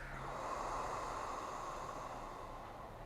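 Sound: calm exhale during meditation breathing

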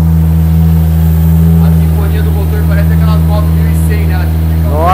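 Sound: BMW E36 turbo engine running and revving

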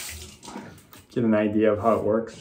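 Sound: shaving brush being rinsed under running warm tap water

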